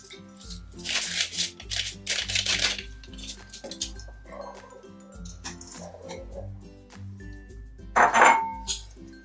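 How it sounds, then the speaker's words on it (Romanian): Cake batter for a pineapple upside-down cake being mixed with baking powder and flour: a utensil clinks and scrapes against the bowl in irregular bursts, with a louder rattle near the end and no talk over it. "Și amestecăm bine până încorporăm toată făina"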